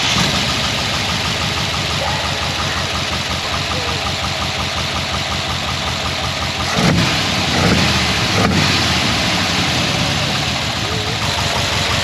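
A Squarebody truck engine idling loud and close through a new cheap exhaust, a steady rumbling drone with a couple of brief revs and pops partway through.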